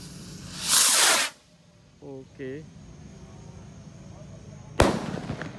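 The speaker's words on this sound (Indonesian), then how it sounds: "Selanjutnya kita nyalakan mercon roket kombi" A combination firework rocket launches with a loud rushing whoosh, followed by a short spoken word, then another sharp hissing burst near the end.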